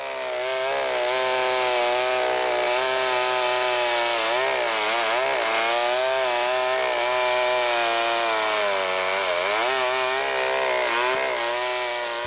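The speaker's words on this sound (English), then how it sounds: "this man pulled the starter on a chainsaw, and this chainsaw started ripping the horn off his face" A chainsaw roars continuously at close range, its engine pitch rising and dipping as it bites into a rhino's horn.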